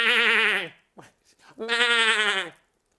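A goat gives two long, loud, wavering bleats close by, separated by a short pause with a few small sounds.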